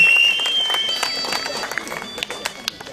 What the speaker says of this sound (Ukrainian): Вітаємо їх аплодисментами, адже це справжні козаки, справжні сміливці